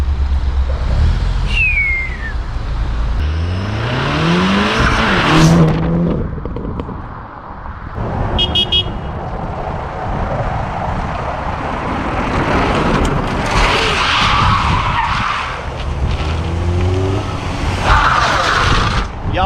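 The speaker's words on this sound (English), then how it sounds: "that is our little attempt to do donuts on a Golf R" A Volkswagen Golf R, a rebuilt 2016 car with APR modifications, does donuts, its engine revving loudly and its tires skidding in long, continuous squeals that rise and fall over about twenty seconds.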